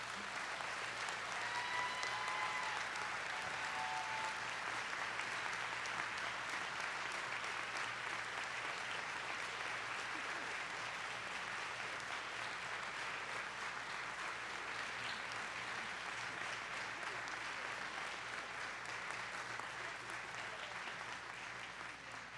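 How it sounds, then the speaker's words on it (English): An audience at a 2022 school commencement ceremony gives long, sustained applause. The dense clapping holds steady for about twenty seconds and tapers slightly at the end, with faint voices mixed in. "Please join me in applauding Ms. Abby Hilson as an honorary member of the"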